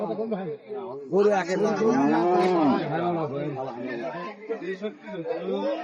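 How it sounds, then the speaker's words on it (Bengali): Cattle low amid a busy livestock market crowd, a long drawn-out moo rising over constant nearby human chatter and voices, among Friesian dairy cows. "সাইজ দেখেন, হিউজ পরিমাণে গরু।"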